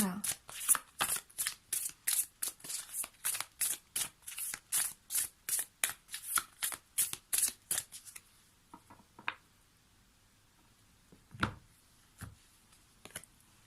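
Tarot cards are shuffled in quick, even riffling bursts for about eight seconds, close and crisp, followed by a few scattered soft taps and flicks as cards are handled and laid down.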